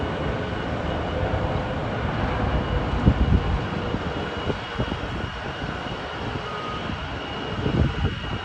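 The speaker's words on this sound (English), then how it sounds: "British Airways A320neo is arriving at Heathrow from Frankfurt." A British Airways Airbus A320neo arrives at London Heathrow from Frankfurt with a steady, moderately loud jet rumble and engine hiss. The noise holds fairly even throughout, with slight swells.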